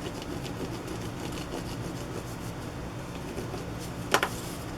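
A distress crayon is rubbed lightly over a crafting surface, a soft continuous scratchy rubbing close by, faint and even, with one sharper tap near the end.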